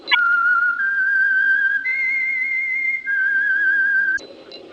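Someone whistles the theme signal of the radio program The Whistler: a clear, close melody of several long sustained notes lasting about four seconds before it breaks off abruptly.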